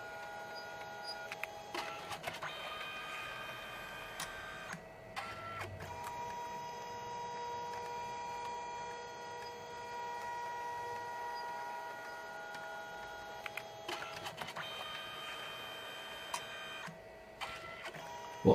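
A photo printer works through its colour sequence, running in repeated mechanical passes with whirring motor tones and short clicks between them, close and moderately quiet.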